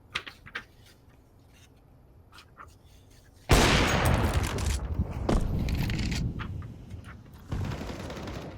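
M4 rifle fire in a competitive shooter video game, a sudden loud burst of shots after quiet clicks and footsteps, followed by more crackling gunfire and a later second burst, close and sharp.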